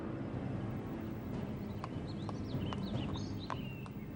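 Horses' hooves clip-clopping on New York City streets around Times Square and Central Park, a few scattered sharp knocks over steady traffic-like rumble, with faint bird chirps above.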